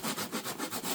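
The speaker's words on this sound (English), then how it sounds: "I'm going to fine sand it now with some, this is 80 grit sand, regular sandpaper here." Regular 80 grit sandpaper rubs over a model railroad layout surface in quick back-and-forth strokes, a steady, close, rhythmic scratching with no talking.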